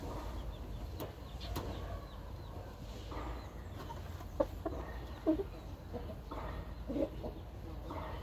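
Young roosters cluck faintly in a farmyard, giving a few short, scattered calls over a constant hum of background noise.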